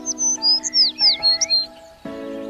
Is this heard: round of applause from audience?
no